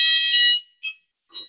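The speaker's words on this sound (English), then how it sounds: "There's normally a fire alarm at this time, Board, so we'll just hopefully wait a few seconds and it'll stop" A building fire alarm sounds in a council meeting room: one long electronic tone of about half a second, then two short beeps, loud and with no voices over it.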